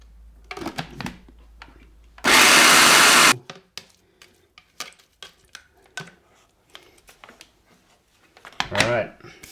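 A whole onion is blended for a Jamaican jerk chicken marinade: one short, loud burst of blending lasting about a second, with a person talking before and after it.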